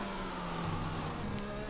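Formula 1 car on a lap of Brazil in F1 2021, a loud continuous engine drone holding steady pitch with a short shift near the middle, heard at close range.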